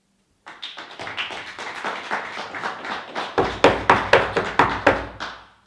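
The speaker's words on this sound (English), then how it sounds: "This court cannot sustain such applause." Applause breaks out in a courtroom right after a not-guilty verdict, a ragged patter of hand claps that swells into sharper, louder rhythmic claps toward the end before cutting off.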